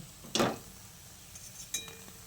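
Fried egg-and-potato fritters being lifted onto a plate, heard as two brief clinks of a utensil against the dish, the first louder, in an otherwise quiet kitchen.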